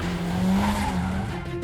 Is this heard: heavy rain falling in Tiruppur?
no